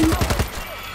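A rapid burst of automatic gunfire in the zombie shooter World War Z, about five quick loud shots in a row that then cut off, leaving a brief fading tail.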